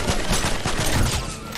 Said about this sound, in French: Ouais, ça tire, hein.